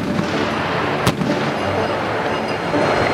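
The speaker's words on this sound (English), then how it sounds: "Behind me, you can see the privates shooting 25 millimeter." A 25 mm Bushmaster cannon fires on a live-fire gunnery range, giving one sharp distant report over a dense, rumbling outdoor background that stays loud throughout.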